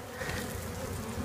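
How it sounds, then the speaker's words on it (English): A honeybee colony in a tree nest buzzes steadily and agitatedly while being removed, a dense, continuous close hum with no voices. "I think these bees are going to be happy that I got to them. They're a little upset right now, understandable"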